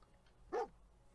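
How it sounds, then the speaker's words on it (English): A dog in the Fallout 4 video game gives a single short bark, moderately close, against a quiet game background. "Dog found something."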